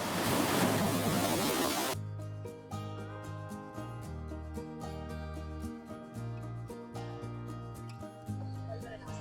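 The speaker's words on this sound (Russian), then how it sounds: "И там во время съемок меня накрыла волна." A sea wave crashes onto a beach in Sicily, a loud, broad roaring wash for about two seconds that cuts off abruptly, after which music plays for the rest.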